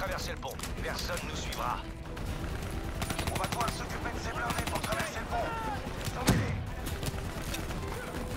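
Rapid bursts of automatic gunfire and blasts in Call of Duty Black Ops 3, ongoing throughout with one heavier boom near the end, while someone talks over the action.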